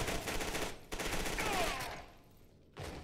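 Rapid automatic gunfire from the video game FEAR 2 comes in loud, dense bursts. It breaks off briefly, fades, then starts again.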